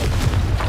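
Confringo spell blast from Hogwarts Legacy, a loud, low booming explosion that fills the short moment with a dense rumble and no speech.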